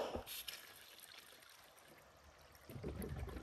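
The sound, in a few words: water flowing through garden pipe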